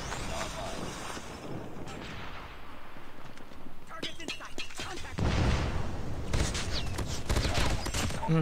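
Rapid automatic AK117 rifle fire in Call of Duty Mobile crackles in repeated bursts, with louder, denser volleys near the end, mixed with game effects under a player's talk.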